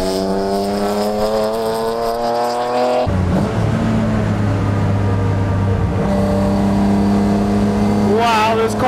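A BMW E36 track car engine revs while driving, rising and falling in pitch as gears change, loud and close from inside the car, with a sharp shift midway and rising revs at the end.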